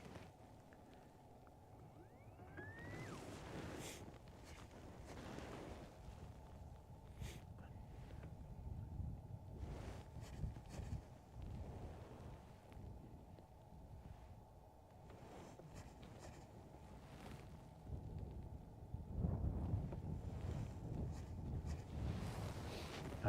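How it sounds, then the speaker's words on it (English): Wind gusts buffet the microphone outdoors by Lake Guntersville, a low rumbling roar that rises and falls unevenly and grows strongest near the end. "I don't know why the wind is blowing like this."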